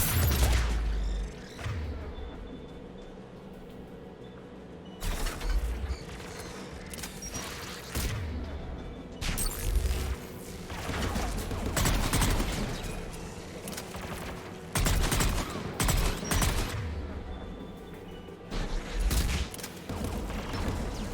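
Geth anti-aircraft guns fire in Mass Effect 3, sounding as repeated bursts of heavy rapid gunfire with booming blasts that come and go over a steady rumbling battle background.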